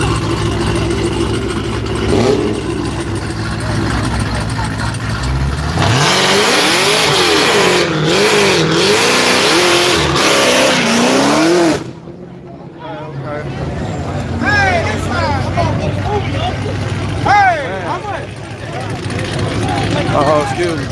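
Drag race cars roar loudly past at Yello Belly Dragstrip, a sustained close engine blast with revving that cuts off abruptly, then more engines rumble in the distance under crowd chatter and someone talking nearby.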